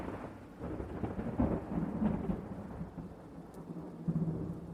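Low, rolling thunder rumbles across hills during a winter storm, a steady deep roar with a few swelling peaks over a continuous wash that suggests falling rain.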